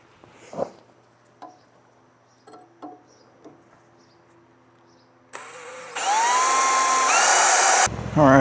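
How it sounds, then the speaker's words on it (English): A power drill bores bolt holes during a pickup truck build, a loud sustained whine rising in pitch after several seconds of faint knocks and handling sounds. "I'm gonna drill a small pilot hole here, and we'll put the 1/2 inch hole in"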